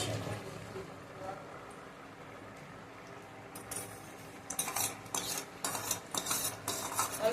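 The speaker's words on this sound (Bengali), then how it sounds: "বন্ধুরা যে নারকেলগুলোকে আমি ভেজে রেখেছিলাম নারকেলগুলোকে আমি অ্যাড করে দিচ্ছি" Fried coconut is tipped into simmering chana dal in a pot and stirred, with quiet scraping at first and then louder, busier metallic utensil clinks and stirring toward the end, alongside a low background hum.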